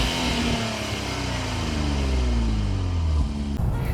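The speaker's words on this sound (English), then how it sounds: "with the twin turbos of this new 3-liter V6, yeah, the exhaust note is a bit muffled and it sounds really quiet for a sports car." A Nissan Z with a twin-turbo 3-liter V6 revs up, its muffled, fairly quiet exhaust note rising in pitch through steady acceleration before cutting off near the end.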